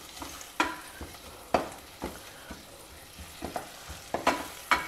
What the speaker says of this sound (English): Here I have about 2 tablespoons of fresh coconut which I have chopped into small bits. Fry that also in the remaining ghee.